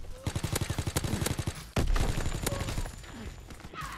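Rapid bursts of submachine gun fire in Call of Duty: WWII, a fast rhythmic stream of close, loud shots followed by a heavier blast and continuing combat noise.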